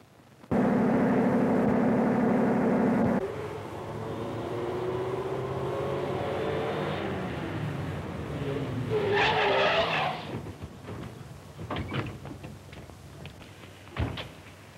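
A 1930s tow car pulls up with loud tire skidding and screeching engine noise, followed by a sharp squeal and a few knocks as it stops, all close and dominant.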